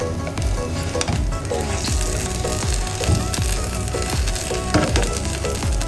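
A keema tortilla roll cooks in an oiled pan, a steady close sizzle broken by repeated soft scrapes and taps of a spatula, with no voices.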